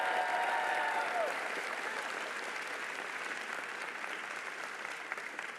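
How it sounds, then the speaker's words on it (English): Sustained audience applause for the Maryland Marching Band at a Maryland Serves inaugural event, a dense steady clapping that fades slightly over several seconds, with a brief whistle-like tone early on and faint crowd murmur. "How about a round of applause for the mighty sound of Maryland Marching Band?"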